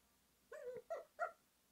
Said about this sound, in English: No, our doggy!